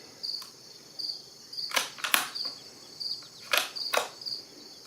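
Someone works the bolt of a Winchester XPR bolt-action rifle chambered in .350 Legend. Two pairs of crisp metallic clacks sound close by over a faint hiss, with no talking.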